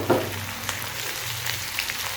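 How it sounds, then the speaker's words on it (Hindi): Onions and tomatoes sauté in a pan for a fish curry, a quiet continuous sizzle with a small clink at the start and faint stirring touches. "प्याज हमारा सौते हो गया थोड़ा सा। अब हम इसमें 2 अदद टमाटर जो हैं वो शामिल करेंगे।"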